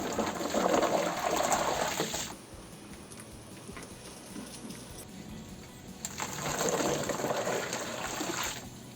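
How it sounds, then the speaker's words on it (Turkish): Bucket of grape juice poured into a large pan for village-style pekmez: two close, rushing pours separated by a quieter pause. No one talks. "Artık son kovamı döküyorum."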